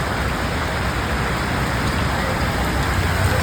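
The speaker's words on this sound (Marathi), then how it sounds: "पावस एकदम जोरात पडतो" Heavy rain pours steadily, a dense continuous hiss of drops drumming on a surface, loud and unbroken throughout.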